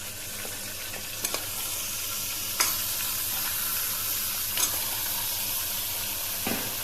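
Lamb sizzles in hot ghee flavored with onion, a steady close frying hiss with a few sharp crackles and utensil taps, and no talking.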